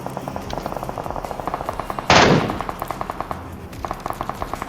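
Gunfire in PUBG Mobile with an Mk14 rifle, a sharp, loud shot burst in the middle over a fast, rhythmic ticking of in-game footsteps or movement before and after.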